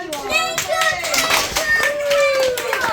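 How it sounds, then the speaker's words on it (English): Children clap together in an outdoor nature-of-science lesson, a brisk burst of applause mixed with young voices and chatter throughout. "Give them a clap."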